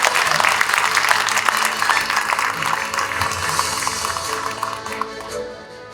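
Audience applause at a Korean labor-relations talk concert, a dense broad wash of clapping that holds steady for several seconds before thinning toward the end; no voices rise above it.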